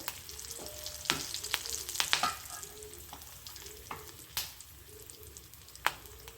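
Curry leaves and tempering spices frying in hot oil in a pan, a close steady sizzle with spoon scrapes and sharp crackling pops, and no one speaking.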